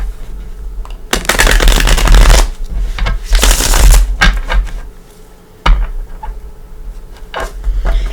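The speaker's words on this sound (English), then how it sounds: "Let's give this a couple shuffles." A Gilded Tarot deck being shuffled close up: a couple of long, dense riffling bursts followed by a few shorter card snaps and taps, with no talking.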